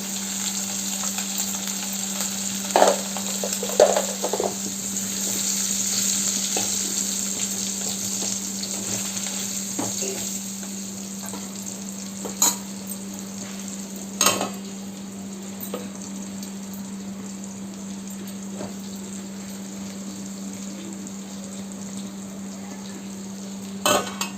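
Fish fries steadily in a pan, a continuous sizzle with occasional clinks and scrapes of a utensil stirring, close and alone without talk.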